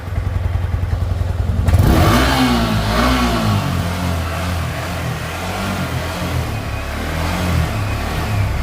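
A Yamaha R15 motorcycle engine starts after a few quick cranking pulses, then idles loudly close by with a rising rev and steady throaty running.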